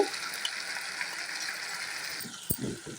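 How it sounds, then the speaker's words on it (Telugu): A glass of water pours steadily into a potato tomato curry for a couple of seconds with a broad rushing hiss, then a few low splashes and a thud as it lands in liquid. "ఇప్పుడు నేను ఒక గ్లాస్ వాటర్ వేస్తున్నానండి"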